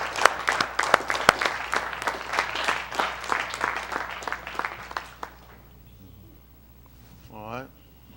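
A synagogue congregation gives a burst of hand claps, dense and fairly close, lasting about five seconds before fading into quiet with a brief voice at the end.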